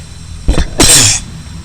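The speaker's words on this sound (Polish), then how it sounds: "ale kichnąłem" A single loud, close sneeze: a short sharp intake followed by an explosive, breathy burst lasting about half a second, with no talking.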